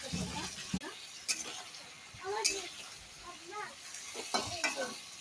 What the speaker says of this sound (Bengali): ভেজে লাল করে ভেজে নেবো একসাথে